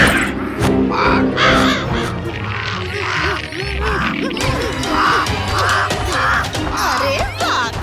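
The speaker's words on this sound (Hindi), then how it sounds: "काव काव राजा।" A cartoon crow in a Chhota Bheem episode caws in repeated harsh bursts over a busy soundtrack of music and mechanical effects, loud and close.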